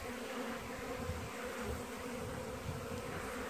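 Honey bees swarm around a beekeeper, filling the air with a dense, continuous buzz that stays close and steady throughout, with no voices.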